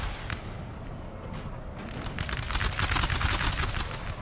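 Musket volleys crackle from a line battle in a Napoleonic-era strategy video game, a dense, continuous rattle of distant shots that grows louder and thicker toward the end, with no voices over it.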